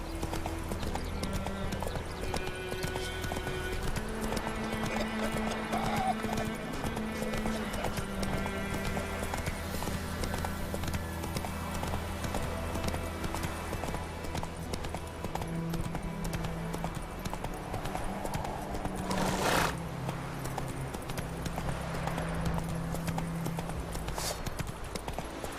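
Horse hooves clip-clop steadily along a path in the video game The Witcher 3, a continuous rhythmic trot over a bed of game music with a brief whinny-like burst near the end.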